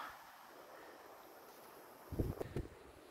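Wind blows along the rocky coast of Pag island in Croatia, a low steady rumble against the microphone with a few stronger gusts near the end.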